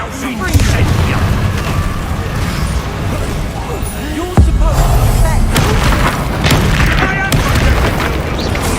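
Confringo fire-blast spells exploding in Hogwarts Legacy, loud booming bursts rolling one into another over steady game noise, with a heavy blast midway and further crackling impacts after.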